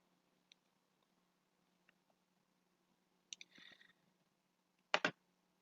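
Computer mouse clicks in a quiet room, a few faint isolated taps followed by a short flurry and a louder double click near the end.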